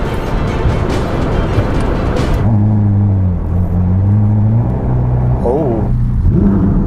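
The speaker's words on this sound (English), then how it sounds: "But since this is a Ferrari, let's throw her into life." A Ferrari SF90 supercar's engine fires up after a few seconds of broad noise, settling into a loud, close, steady idle rumble with a brief rev blip near the end.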